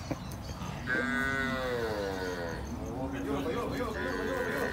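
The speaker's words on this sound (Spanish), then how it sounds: "Esta es otra vaca para José" Cows mooing in a farm corral, a long drawn-out low moo followed by a second shorter call, close and loud over steady background noise and someone talking nearby.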